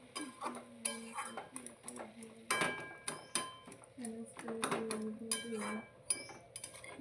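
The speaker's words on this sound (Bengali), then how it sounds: "আর একটু খুন্তি দিয়ে আমি কিন্তু এটাকে স্ম্যাশ করে দিচ্ছি একটু।" A metal spatula mashes well-cooked vegetables in a pan, giving irregular clinks, scrapes and taps that are fairly quiet and close, with a voice talking between and over the knocks.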